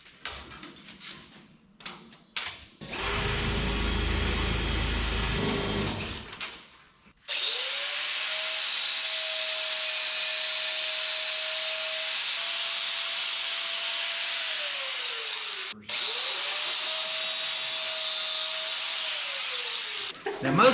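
Power drill boring holes through a big shop sign, the motor whining in long steady runs with a spin-up, a short stop and a second run, preceded by rough scraping handling noises.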